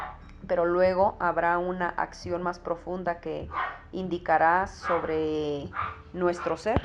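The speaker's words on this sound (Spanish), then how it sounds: "como ustedes escuchan hay muchos perros que están ahí ladrando" Several dogs bark and yip in the background, partly masked by someone speaking Spanish in a continuous religious talk.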